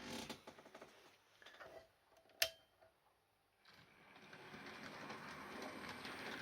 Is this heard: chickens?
no